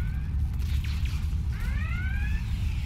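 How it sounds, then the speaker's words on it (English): Red alert alarm in the Star Trek Online game, faint rising and falling electronic wails repeating over a low steady background rumble. "Beep, red alert."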